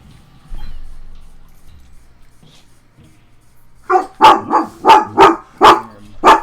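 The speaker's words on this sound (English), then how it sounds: "There's my dog, as per always." A dog barks in a run of about seven loud, close, evenly spaced barks after a few seconds of near quiet and a soft thud.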